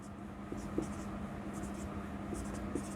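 Chalk or marker writing on a classroom board, a faint ongoing scratching with a few light taps under steady room noise and no talk.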